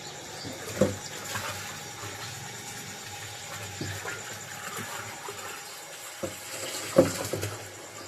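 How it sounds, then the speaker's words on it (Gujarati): Tap water running steadily into a container at home in an Indian household, a continuous wash of flow with a few soft knocks, no voices. "આપણે હવે પાણી ભરી દઈએ"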